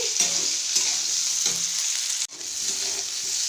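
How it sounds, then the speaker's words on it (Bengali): Cauliflower and potato fry in a pan with a steady crackling sizzle, broken by a few soft stirring scrapes and a brief clatter near the end. "আমি ফুলকপি আলুটা ভাজা করছি।"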